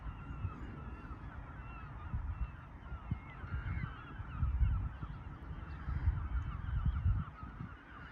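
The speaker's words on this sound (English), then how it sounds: "massive flock of seagulls has gone up" A large flock of seagulls calls continuously in a dense, overlapping chorus, with wind rumbling steadily underneath.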